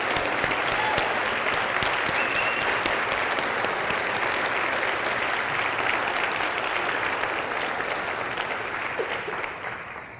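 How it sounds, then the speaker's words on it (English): Conference attendees at an ATHE theatre-education gathering give a sustained round of applause for their leaders, thick and even for most of its length before tapering off at the end. "Can we have a round of applause for these distinguished leaders?"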